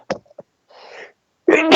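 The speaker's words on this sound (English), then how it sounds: "I thought I was going to sneeze." A person sneezes, giving a short sharp burst at the end that follows a few small breaths and a faint murmur, close and loud in a quiet room.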